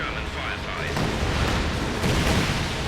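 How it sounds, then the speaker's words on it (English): Rocket strafing run called in during a Company of Heroes 2 battle, a dense, roaring barrage of blasts and rumbling impacts that swells over a few seconds, loud and close. "I'm gonna call down my strafing run here"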